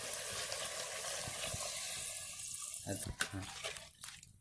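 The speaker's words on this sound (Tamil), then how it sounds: "நல்லா கிளறி ஓரளவு வெந்ததுக்கப்புறம் தேவையான அளவு தண்ணியை ஊற்றணும்." Water is poured into a pan of simmering egg curry, a splashing, tap-like gush heard close for a few seconds before it breaks off into a few drips and sizzles.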